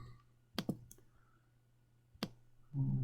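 A computer mouse clicks during After Effects editing, two quick clicks, a lone click, then another pair after a pause, close and soft in a quiet room, with a hum and a brief noise swell at the end.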